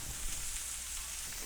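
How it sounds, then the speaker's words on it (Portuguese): Pork fillet and leek sizzling in a pan, a steady close broadband hiss of frying that holds at an even level throughout, with no talk. "o alho poró Está sendo refogado"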